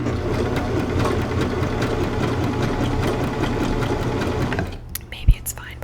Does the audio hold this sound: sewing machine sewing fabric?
yes